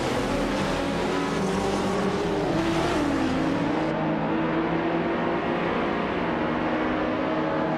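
Race cars in a racing video game, including a 2004 Porsche Carrera GT-R, launch off the start line with a loud, continuous engine roar that rises in pitch as they accelerate, then holds as a sustained high drone.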